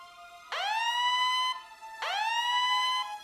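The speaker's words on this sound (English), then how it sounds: "That's the alarm." Two rising electronic siren wails, each lasting about a second, sound close and clear against near silence, like an in-game alarm.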